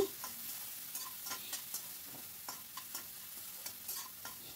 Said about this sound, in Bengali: তখনই আমি এর ভেতর দিয়ে দিচ্ছি কুচানো পেঁয়াজটা দিয়ে একটু নাড়াচাড়া করে নেব